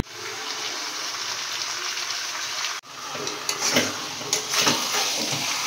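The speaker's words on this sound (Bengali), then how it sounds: "আর একটু ভালো করে কষিয়ে নিই, এটা এখন কষাতেই হবে।" Mutton sizzles steadily in a hot pan during kosha, a loud continuous fry with a brief break, then scraping stirs and clattering spoon knocks as the meat is turned.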